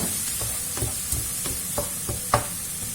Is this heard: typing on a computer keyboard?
no